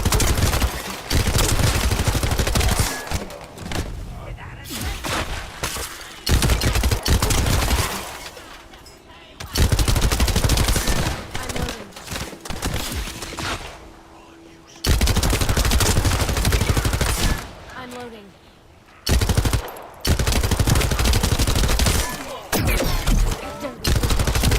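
Sustained gunfire in The First Descendant: loud, dense bursts of rapid automatic shots come in long strings with brief pauses, nearly continuous across the whole stretch.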